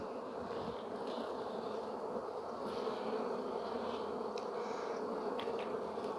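A honey bee colony buzzes steadily during a hive inspection, a dense, continuous drone close to the open hive that is trying to swarm, with no talking.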